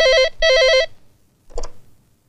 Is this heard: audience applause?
no